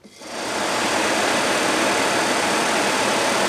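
The original heater blower motor of a 1980 Jeep CJ-7 runs on the battery, spinning up in the first half second, then a loud, steady whirring hum close up.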